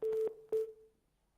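A telephone tone on a call-in broadcast after the line drops, two steady beeps of the same pitch, each about a quarter second long with a gap between, the second fading away into near silence.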